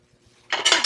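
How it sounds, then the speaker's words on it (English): A utensil pushing eggs around a pan while an omelette cooks, a short burst of scraping and clinking against the metal after a near-silent start. "all I'm doing is just moving them around in a pan"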